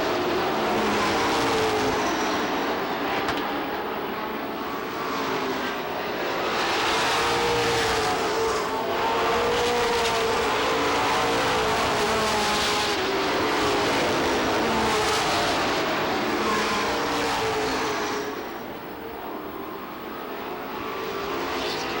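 Race cars roar around Lee USA Speedway during a 1993 Oktoberfest event, a dense, continuous wash of engine noise that swells and recedes as the pack circles the track.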